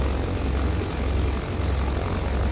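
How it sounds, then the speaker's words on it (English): Both piston engines of a Britten-Norman BN-2 Islander in Microsoft Flight Simulator run at a steady idle, a continuous low propeller drone with no voices. "We have a good start on both engines."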